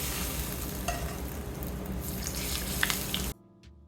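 Hot oil poured over pepper for Chinese country noodles sizzles loudly and steadily up close, with a few brief clinks and crackles, then cuts off abruptly near the end, leaving faint quiet.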